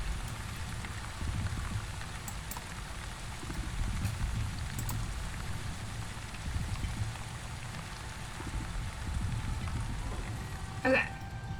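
Rain falls steadily on the settlement in The Wandering Village, a soft, even patter across the whole stretch, with faint speech drifting in over it.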